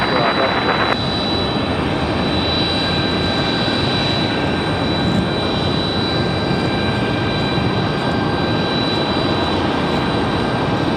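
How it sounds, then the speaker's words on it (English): Airbus A220-300 jet airliner arriving on runway 23 left at Raleigh-Durham airport gives a continuous loud jet roar and whine, with people talking underneath. "Another A220-300 arriving now."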